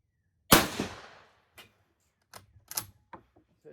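An 1893 Turkish Mauser rifle fires one loud, sharp shot at an outdoor range, with a decaying crack and echo, followed by quieter metallic clicks and clacks of the bolt being worked.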